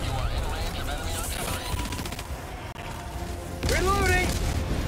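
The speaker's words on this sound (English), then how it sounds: "Oh, rocket launcher." Gunfire and booming blasts in Helldivers 2 as a rocket launcher fires, a louder explosive burst near the end, with players talking over it.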